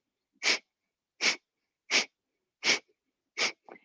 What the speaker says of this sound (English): we'll begin with a breath of fire by pumping the belly